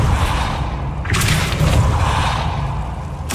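The Depulso spell cast in Hogwarts Legacy, a loud rushing whoosh with a deep thump, followed by a sharp burst of energy and another short swoosh at the end.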